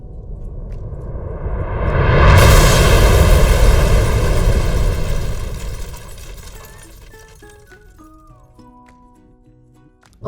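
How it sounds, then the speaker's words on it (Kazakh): Cartoon rocket launch effect: a roaring blast swells over a few seconds, then fades into a long tail with rising musical tones. "Зымыран"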